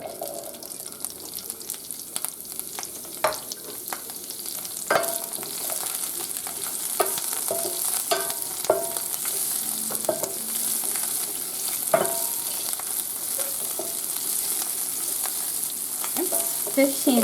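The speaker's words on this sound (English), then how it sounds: "I am going to now add in my chilies and my green onions, and I'm going to cook them for about 30 seconds." Chilies and green onions frying in hot oil in a pan, a steady sizzle with scattered crackles and pops, continuous and close, with occasional stirring clatter.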